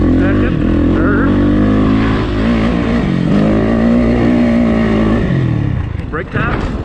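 Dirt bike engine revving up through first, second and third gears on the run-up to a jump, a loud, steady, droning motor with rising pitch steps, close to the rider, cutting off near the end.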